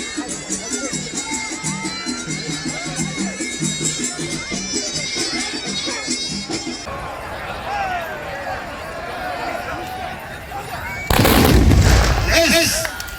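A Moroccan baroud display where mounted riders fire gunpowder muskets in one volley: a single loud, ragged blast near the end, following crowd noise, music and an announcer's voice.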